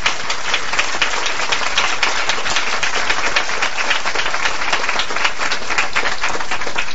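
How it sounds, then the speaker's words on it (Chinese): An audience at an Amway business seminar claps in sustained, even applause, a loud, unbroken wash of many hands that holds for about seven seconds without speech. "我们给他们一个掌声。"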